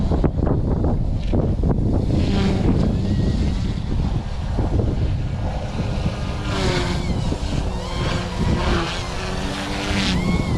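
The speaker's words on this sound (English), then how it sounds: "Super windy." Gusty wind buffets the microphone outdoors at a small remote-control helicopter's maiden flight, a rough, loud rumble with a faint high whine running through it.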